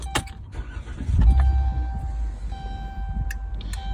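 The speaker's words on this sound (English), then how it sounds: "once we start the van" A van's engine starts and settles into a steady idle, loud and close, with a few sharp clicks and ticks from the cab at the start and near the end.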